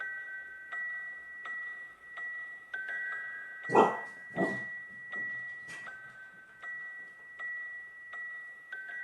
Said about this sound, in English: forgive the few dog barks in there at the end